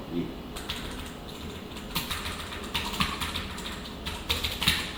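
Typing CSS code on a computer keyboard, with steady close key clatter and clustered louder keystrokes in quick bursts while someone talks softly over it.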